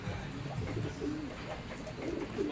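A checkered racing pigeon visiting a loft gives soft, low cooing calls close by, quiet and alone against faint background noise.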